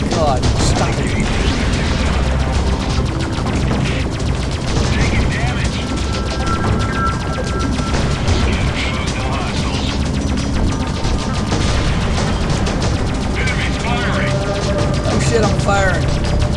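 Rapid spaceship weapon fire in the space game Freelancer, dense bursts of shots and crashing impacts running steadily throughout at high, close volume.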